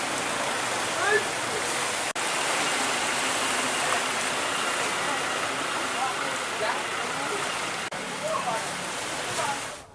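Floodwater rushing through the streets of Denpasar during a flood, a steady loud broadband wash of flowing water close by, unbroken for the full length with only slight swells.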